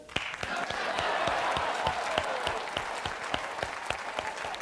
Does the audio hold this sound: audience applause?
yes